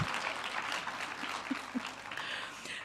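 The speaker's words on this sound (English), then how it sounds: "Can we give her a Cathsseta applause for her innovation?" Audience applause at a sector skills conference, steady broadband clapping from a crowd lasting throughout, moderately loud with a few faint voices underneath.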